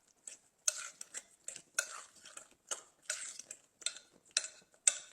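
A spoon stirs guacamole in a bowl, with a rhythmic series of soft scraping clinks against the dish, close and fairly quiet, with no talking.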